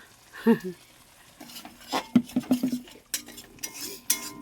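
Spice mixture being stirred in a cooking pan, a series of metallic scrapes and clinks from a utensil against the pan at irregular intervals, close and distinct over a soft background.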